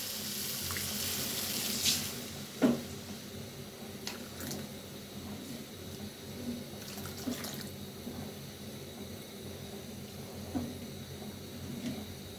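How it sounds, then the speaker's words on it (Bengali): Water pours and splashes into a cooking pot, a faint, steady running-water wash with a few soft knocks and splashes near the start, no voices. "জল দিয়ে দেবো এখন।"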